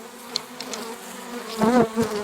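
Disturbed honey bees swarm around an opened hive during a colony transfer, their buzzing a steady close drone with louder swells as bees pass near.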